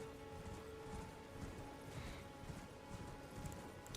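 A horse gallops in Elden Ring, its hooves giving a steady, soft rhythmic pounding under a low ambient background, faint and continuous throughout.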